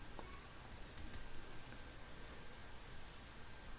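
A computer mouse clicks twice in quick succession, faint and close, over a steady low hiss of room noise with no talking.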